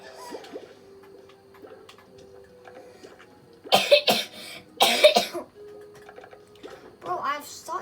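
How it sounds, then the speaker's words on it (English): A child coughs hard in two clustered bursts near the middle, close and loud against a quiet room, with soft talking and small clicks before and after. "I have such a bad cough"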